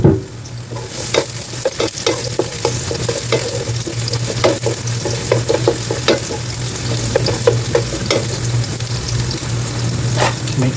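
Garlic sautés in hot cooking oil in a pan, a steady loud sizzle with the scrape and knock of a spoon stirring at irregular intervals, close by and continuous throughout.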